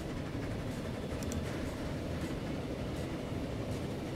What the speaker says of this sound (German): Ein wunderbarer Zug.